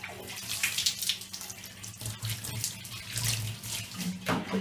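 Tap water runs steadily into a sink while a cat is bathed at home, with splashing bursts and faint handling noises as water is poured over the fur; no speech.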